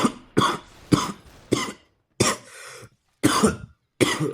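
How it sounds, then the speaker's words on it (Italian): Seven harsh, forceful coughs in a halting series, each a sharp burst separated by short silences, close to the listener. "Mi veniva la tosse forte"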